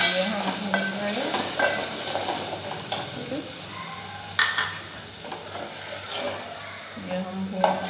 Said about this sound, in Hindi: ये हम भून रहे हैं।